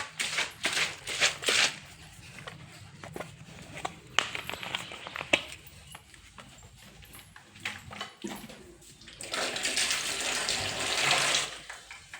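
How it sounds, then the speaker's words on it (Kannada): A watering can is filled from a household tap: scattered clunks and handling knocks, then a steady rising hiss of water streaming into the can near the end. "ಫಸ್ಟು ನಾನು ವಾಟ್ರ್ ಕ್ಯಾನ್ ನೀರು ತುಂಬಿಸ್ತೀನಿ"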